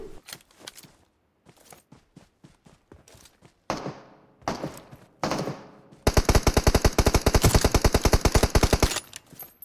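Rapid automatic gunfire from PUBG Mobile on the Erangel map: scattered single shots and short bursts give way to a loud, sustained rattling volley of evenly spaced shots at the end.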